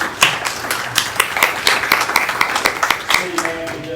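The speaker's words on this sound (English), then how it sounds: "raise your hands, give her a round of applause" Audience applause for a city staff member at a groundbreaking ceremony for a new park-and-ride facility, a steady burst of clapping from a small crowd lasting several seconds, with some voices mixed in.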